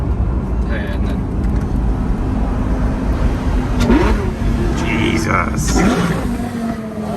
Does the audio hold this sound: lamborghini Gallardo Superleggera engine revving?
yes